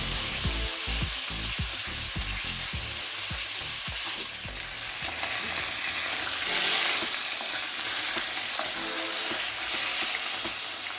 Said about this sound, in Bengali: হলুদ মাখা মাছ দুটো দিয়ে দেব ভাজার জন্য।